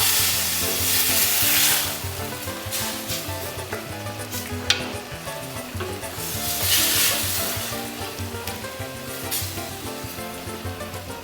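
Pork juices sizzle steadily in a pan on low heat for Brazilian pulled pork, a continuous dense frying hiss with light stirring and scraping, fairly close, with no talking.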